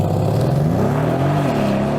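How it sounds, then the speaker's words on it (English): A Bentley luxury saloon launching hard from standstill, its engine roaring loud and close as the revs climb steadily through the pull. "I'm going to launch this car and measure it from 0 to 60 miles an hour"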